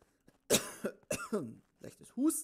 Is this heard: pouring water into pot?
no